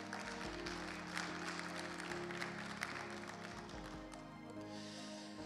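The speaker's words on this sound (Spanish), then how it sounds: "un fuerte aplauso al Señor" Church congregation applauding during a Spanish-language sermon, a faint, distant wash of clapping blended with sustained background music and low murmuring.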